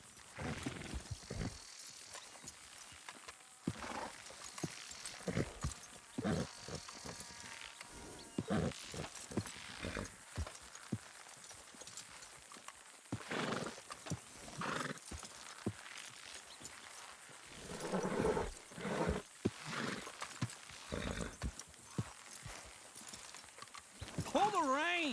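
Horse hooves clip-clop at a steady walking rhythm with an occasional neigh in the video game Red Dead Redemption 2, close and moderately loud beneath frequent men's speech and ambient game noise.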